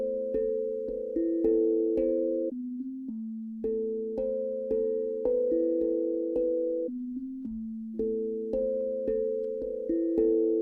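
Two looped trap drum patterns built from a recorded drum, played dry with no effects, repeating in a steady cycle of pitched, ringing hits with sharp attacks, loud and alone.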